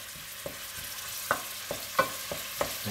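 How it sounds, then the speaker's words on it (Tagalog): Garlic and onion sizzle in a hot pan while being stirred, with a soft steady frying hiss and light scraping knocks of the utensil every half second or so, quiet and close. "Halo-haloin po natin hanggang magiging konting brown ng konti."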